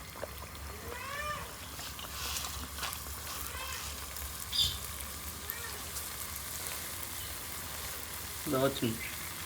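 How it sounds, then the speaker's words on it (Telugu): Ariselu, a rice and jaggery sweet, frying in hot oil: a steady bubbling sizzle at moderate level, with brief faint vocal sounds near the start and end. "అరిసిని ఈ విధంగా తీసుకొని మనం నూనెలో వదిలేసుకుందామండి స్లోగా"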